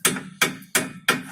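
Brake pads on an Opel Vectra B are driven into place with a small hammer: four sharp metallic blows, close and evenly spaced about a third of a second apart, with no talking.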